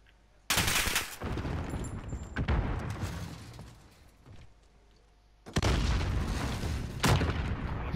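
Explosions and gunfire in a Modern Warfare match: two heavy, loud blasts several seconds apart, each with a sharp onset and rumbling tail, and scattered shots in between.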